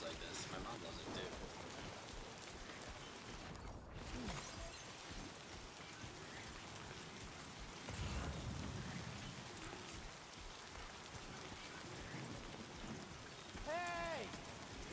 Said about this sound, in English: I love it when it rains like this.